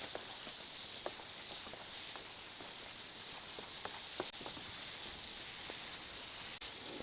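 Chicken curry masala with chopped tomato sizzles quietly in a pan over a medium gas flame, a soft continuous crackle with scattered small pops and the occasional clink, heard alone without talking.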